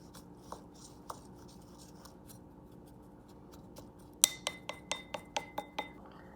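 A spoon stirs chimichurri ingredients in a glass bowl, faint soft scraping that turns into a quick run of about seven sharp, ringing clinks against the glass, close and quiet, with no talk.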